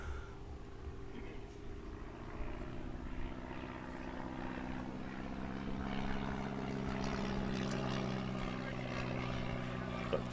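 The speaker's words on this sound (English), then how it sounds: "Got the pre-arranged flyover at the ground now." A propeller aircraft passes over a cricket ground on a pre-arranged flyover, its steady droning engine growing slightly louder across the clip over a constant outdoor background.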